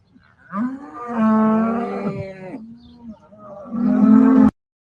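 Dairy cows in a barn giving loud, drawn-out moos, several long calls in sequence, close and clear, with a pause between the bellows.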